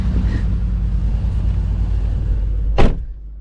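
A 2020 Lexus RC-F hums along from inside the cabin with a steady low engine drone under road and wind noise, and a sharp brief whoosh near the end before it quietens.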